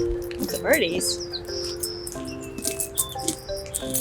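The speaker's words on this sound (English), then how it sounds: "being in the nature is nice, but there's these incessant bird noises" Small birds chirping in brief, bright bursts in natural surroundings around a parked RV, mixed with light background noise and faint movement.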